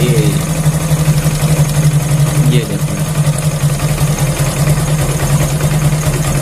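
A motorcycle engine idles steadily after its idle RPM has been adjusted, a loud continuous close-up putter with an even pulse throughout, while someone speaks briefly over it.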